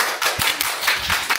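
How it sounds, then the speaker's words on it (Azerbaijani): Applause for Nadir from a small group, a quick burst of close, uneven hand claps with several distinct sharp slaps. "Nadir alqışlar"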